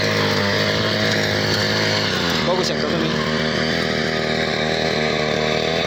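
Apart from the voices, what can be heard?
mini weeder engine running in cotton field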